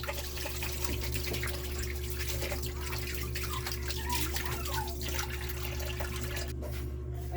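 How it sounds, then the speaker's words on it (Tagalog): Tap water runs steadily while raw tuna for kinilaw is washed, a constant close splashing stream with no talk over it. "hugasan natin."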